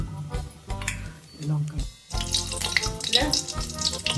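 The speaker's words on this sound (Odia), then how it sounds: "ଲଙ୍କା ପଡ଼ିଲା ଆମର, କଞ୍ଚା ଫୁଟଣ ପଡ଼ିବ" Green chillies dropped into hot mustard oil sizzle and crackle close by, a dense frying hiss that swells after a brief pause, with a voice talking over it.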